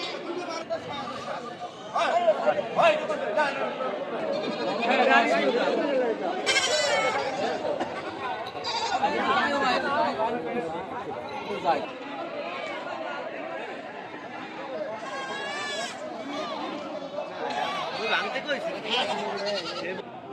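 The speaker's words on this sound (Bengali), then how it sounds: "এটি হচ্ছে ছাগলের হাট" A goat market in Charmonai, busy with livestock: repeated bleating of goats and sheep rises over continuous crowd chatter and talking voices, some close by and some farther off.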